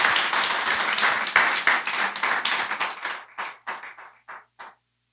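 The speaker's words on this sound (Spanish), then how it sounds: "Bríndele su mejor aplauso al Señor" A church congregation applauds: dense, loud clapping at first, then thinning into scattered, separate claps that fade to silence.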